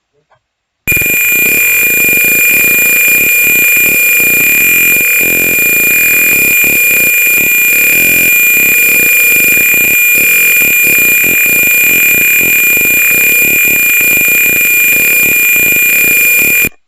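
A buzzer in a PIR motion sensor simulation with an LED sounds loudly and continuously as a steady high-pitched electronic tone, running unbroken for about sixteen seconds.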